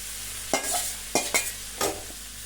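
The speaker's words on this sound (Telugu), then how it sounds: "రైస్ వేసేసుకొని బాగా మిక్స్ చేసుకోవాలండి." Rice is stirred into a cooked ivy gourd mixture in a pan on a lit stove: four distinct scraping strokes of a spoon against the pan over a faint sizzle, with no voices.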